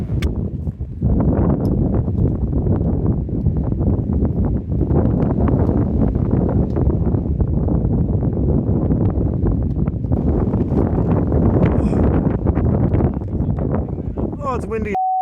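Strong wind buffeting the microphone at a hilltop viewpoint on Brock's Head, a loud, continuous rough rumble with gusty rustling, and voices speaking over it.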